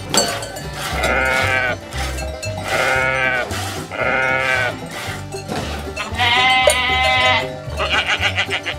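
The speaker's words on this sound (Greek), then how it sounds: "Παιδιά, δείτε εδώ πόσα αρνιά έχει." A flock of sheep, lambs and goats on a milking farm bleat loudly and repeatedly, their calls overlapping close by with barely a pause between them.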